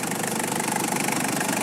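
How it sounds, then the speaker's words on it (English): A 1996 Toyota Hilux Surf SSR-G engine runs steadily at idle, a close, continuous hum with a fine mechanical rattle and no speech. "Here you can see the engine runs quite nice."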